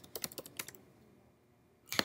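Computer keyboard keys click in a quick burst of light taps, fall quiet for about a second, then give another brief cluster of clicks, close and faint.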